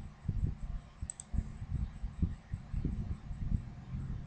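A computer mouse gives a quick pair of faint clicks in a quiet room, close by, amid soft low thumps and handling noise, with no voices.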